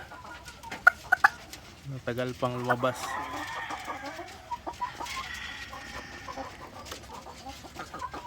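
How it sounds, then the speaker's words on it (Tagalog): A hen clucks and cackles in drawn-out, strained bursts while laying an egg, as other fowl call around her; a person speaks briefly. "So ganyan na tunog ay nangingitlog yan."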